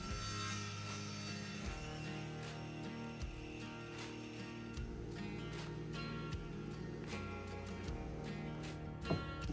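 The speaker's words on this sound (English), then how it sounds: "I went ahead and made the 4 remaining cuts" A woodworking saw making steep miter cuts through wood on a joinery sled gives a steady machine hum with repeated rasping passes as the blade cuts, close and continuous, with no speech.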